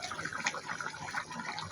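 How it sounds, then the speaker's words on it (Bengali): Chicken curry gravy simmers in a covered pot, giving a soft, steady bubbling and hissing that stays faint and continuous throughout. "তো দেখো অনেকটা ঝোল ফুটে আসছে"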